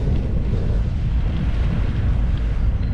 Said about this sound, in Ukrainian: Хоч і вітерець, чуєте, такий дує нормальний